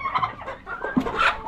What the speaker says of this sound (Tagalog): Manok din.